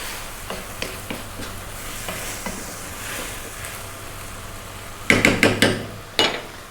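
A vegetable rice mixture with cilantro is stirred in a pan. Light scrapes and taps over a low sizzle are followed by a quick burst of sharp utensil knocks against the pan near the end.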